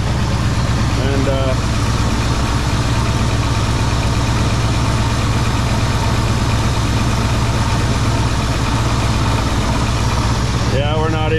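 1980 Chevy C30 dually truck engine, first start in 26 years, idling steadily up close with a constant low rumble and a persistent rattle, with brief bursts of speech near the start and end.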